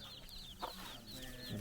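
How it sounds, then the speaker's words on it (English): Chickens cluck softly at a rural hillside farm settlement on the trek to Ciudad Perdida in Colombia, with a mother hen and many little chicks; brief faint clucks and chirps sound close against a low outdoor background. "Oh, loads of little chicks."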